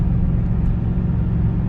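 Low, steady engine rumble from a 2002 GMC Yukon 2500 with an 8.1 Vortec V8, accelerating gradually uphill while towing, heard continuously from inside the cab.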